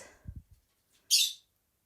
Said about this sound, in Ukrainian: Попугайчик разом зі мною щебече.